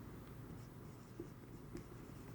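Faint scratching of a pen writing on paper while working through an accounting correction exercise, a soft, steady scribble set against a low background hum.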